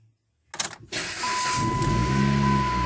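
A Dodge Caliber engine cranks briefly, catches, and settles into a steady, fairly quiet idle with a low rumble and a faint whine.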